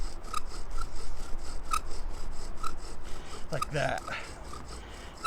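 Bow drill spindle rubbing against a wooden fireboard to make friction fire, a steady rhythmic rasping scrape repeating back and forth, briefly interrupted by a short spoken phrase near the end.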